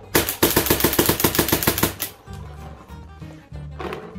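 A Freak XL-barrelled paintball marker with a modified FreeFlow clutch rips a very fast, even string of about a dozen shots, then falls quiet apart from a few softer mechanical clicks and thumps.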